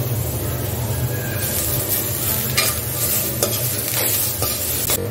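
Dry coconut slices roast in a pan with a steady, close sizzle, broken by a few light scraping stirs.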